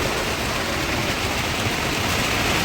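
Heavy rain falling steadily, a dense, even hiss of drops that fills the whole stretch without pause, close and fairly loud, with no voices.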